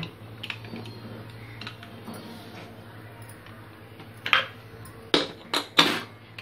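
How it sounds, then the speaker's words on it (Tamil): A metal lid being set onto a pressure cooker of vegetable and toor dal kootu: a few sharp clanks and clatters near the end, close by, over a steady low kitchen hum. "இப்போ மூடி போடுறேன்."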